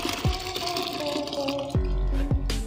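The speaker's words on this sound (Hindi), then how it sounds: "और ये गर्म पानी इसमें डाल देंगे।" Hot water poured into a bucket holding salt and black cloth dye, a steady close splashing pour with brief gurgling bursts and a few sharp low thumps as the stream lands.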